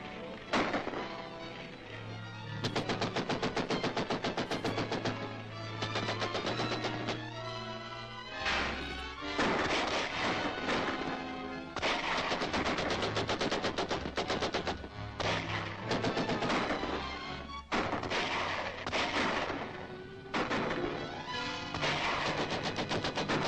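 Sustained cannon and gunfire in a battle with English troops, with dense, continuous bursts of shots and heavy booms that stay loud throughout, with no let-up.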